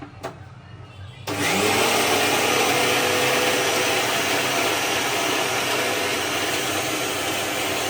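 Mixer grinder blending peanut chutney: after a quiet second the motor kicks on into a loud, steady, high-pitched whirr that runs without pause to the end.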